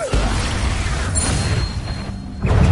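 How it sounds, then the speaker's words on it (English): An Expulso explosion spell cast in the game Hogwarts Legacy, a loud dense burst with rumbling, crackling debris that fills the whole moment and swells again near the end. "Explosion!"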